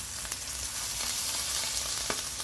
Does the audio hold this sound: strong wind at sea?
no